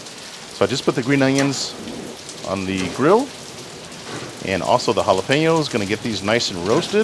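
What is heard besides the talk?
heavy rainstorm outside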